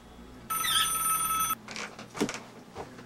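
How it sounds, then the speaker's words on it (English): A service telephone's electronic bell rings in one steady burst of about a second, followed by faint thumps and rustling in the room. "Bubba, service phone's ringing."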